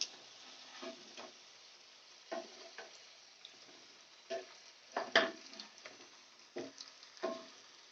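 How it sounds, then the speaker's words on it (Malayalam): A teatime snack frying in hot oil in a pan: a quiet, low sizzle runs throughout, broken by scattered crackles and sharper pops at irregular intervals, heard close and alone. "ഒരു ഭാഗം ഫ്രൈ ആയി വന്നിട്ടോ നമുക്ക് മറ്റേ ഭാഗത്തേക്ക് മറിച്ചിട്ട് കൊടുക്കാം"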